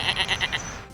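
Sheep bleating in a co-op video game, a short wavering bleat pulsing about five times, clear and close, with no talk.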